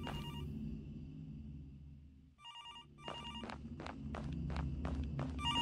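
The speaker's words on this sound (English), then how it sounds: "I'm like, why is the phone ringing in the cemetery?" A telephone rings in a cemetery, its electronic bell trilling in rapid repeated bursts that pause briefly and then resume, over a steady low rumble of background noise.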